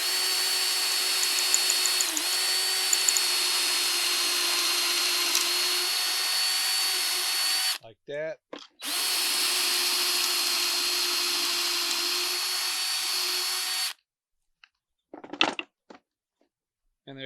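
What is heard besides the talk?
power drill running a bit through a jig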